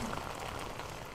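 Steady rain falling outdoors on a wet day, a soft continuous patter without pauses.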